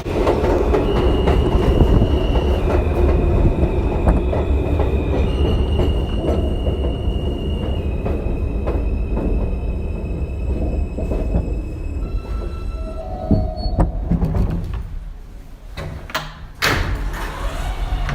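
A Queens-bound M local New York City subway train runs between stations: a loud, steady rumble of wheels on rails with faint clicking, a sustained motor whine and a brief metallic squeal near the end. No one speaks.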